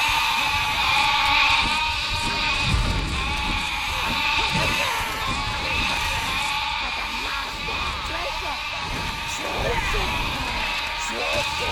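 Sheep bleating in the Overlord video game, repeated nasal bleats from several animals over a steady ambient game soundscape, with a voice talking over the calls throughout.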